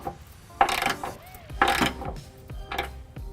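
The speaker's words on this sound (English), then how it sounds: "I've got a 3/4 inch socket. I'm just going to take all of the hardware that I installed by hand and snug it up" A ratchet fitted with a 3/4 inch socket snugs up trailer hitch hardware on a 2001 Chevrolet Impala, giving three short bursts of rapid clicking spaced about a second apart, close and fairly loud, with no talking.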